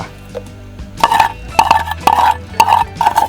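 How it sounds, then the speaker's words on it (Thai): Five crunchy scrapes sound close by as a utensil scoops through crispy fried food, each with a faint metallic clink. "ฟังจากเสียงที่ผมตักเนี่ยผมคิดว่า มันน่าจะกรอบน่าดูนะ"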